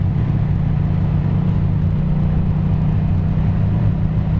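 A Yamaha FZ-07 motorcycle engine runs steadily in fourth gear while riding, a loud, continuous low throbbing drone with wind rush and no talk.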